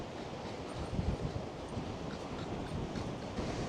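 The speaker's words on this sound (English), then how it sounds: "Very, very windy." Strong wind roars across a beach at high tide beside a choppy sea, a loud, steady, broadband rush with gusty swells and surf mixed in, no voices.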